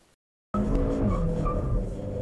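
A Suzuki Swift Sport hot hatch driven hard on a test track: after a brief silence, a loud sustained engine roar with tyre squeal, close and continuous with no talking.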